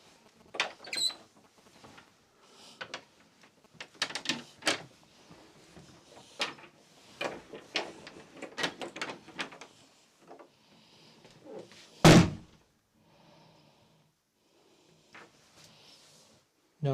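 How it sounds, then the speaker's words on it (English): Door in a science-fiction museum in Hexham, heard once as a loud, sharp bang of shutting midway through, amid scattered footsteps, knocks and movement, with faint rattles afterward. "I've just shut the door. You heard me shut the door."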